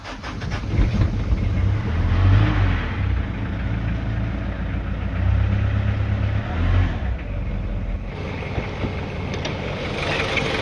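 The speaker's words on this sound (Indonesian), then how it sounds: "mesin diesel 2500 cc diesel" A 2500 cc diesel car engine idles steadily with a low, rough rumble, loud and close, swelling slightly at times.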